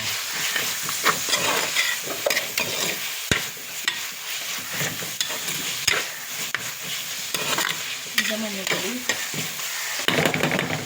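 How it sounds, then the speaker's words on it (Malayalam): Onions fry with salt in a pan for a chicken curry, stirred vigorously with continuous loud sizzling and frequent scraping and clattering of the spoon. "നമ്മൾ ഉപ്പിട്ടിട്ട് നല്ലൊന്ന് ഇളക്കി കൊടുക്കാം."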